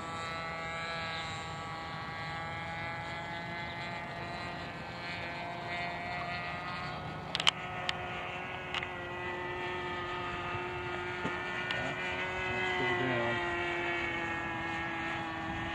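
Seagull Models PC-9 model airplane motor in flight, holding a steady, continuous whining drone at moderate distance, with a few faint clicks and no talking.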